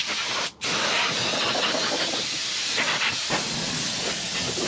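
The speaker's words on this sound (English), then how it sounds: "we've got our Harbor Freight steam cleaner" A Harbor Freight steam cleaner hisses steadily inside an old Chrysler's interior, a loud, continuous close spray that breaks off for a split second early, then resumes.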